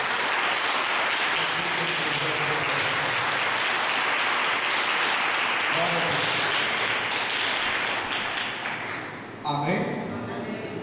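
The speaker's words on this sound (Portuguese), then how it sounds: "Aplauda o nome de Jesus." A congregation at the Catedral Socorrista Evangélica applauds loudly and continuously, the dense crowd clapping filling the room for about nine seconds before it thins and a voice begins speaking over the fading claps.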